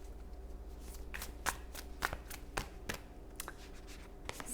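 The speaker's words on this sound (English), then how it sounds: "I'm just going to lay out all your cards before I start interpreting." Tarot cards are laid out one by one for a modified Celtic cross spread, a close, quiet series of papery slaps and slides in an irregular rhythm over a low background hum, with no talking.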